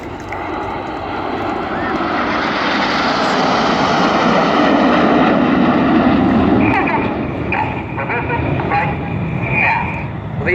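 A Eurofighter Typhoon jet of the Royal Air Force roars past at a Red Arrows airshow in Southport, trailing red and white smoke. Its loud, sustained engine rumble swells and holds for about ten seconds while a commentator talks over it.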